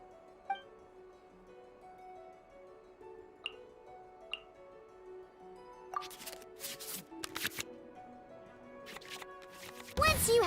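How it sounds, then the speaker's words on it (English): Digital cards being shuffled back into the draw pile in the Genshin Impact card game: quiet ticks and soft taps over background music, then a run of brisk card-flick bursts near the end. "we can select any number of cards in our hand to shuffle back into the draw pile"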